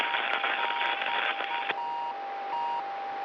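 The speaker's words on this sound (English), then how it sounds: "you also hear the intermittent beeping sound" Locator beacon on a descending Soyuz capsule gives an intermittent steady-pitched beep, a few spaced tones over a loud hiss of static radio noise.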